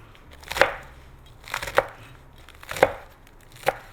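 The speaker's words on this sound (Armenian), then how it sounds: "Այս ես կտրատում եմ," Four separate knife chops on a cutting board, spaced about a second apart, while salad ingredients for a sweet sujukh salad are cut into fairly large pieces.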